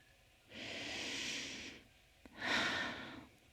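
Two slow, deep breaths are heard up close in a quiet room, a long airy inhale and exhale and then a second breath after a short pause, with no talking.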